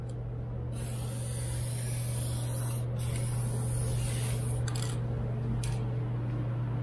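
An aerosol can of Amsoil MP sprays steadily onto the frame of a fourth-generation Toyota 4Runner, a loud continuous hiss with brief pauses and restarts, over a constant low hum.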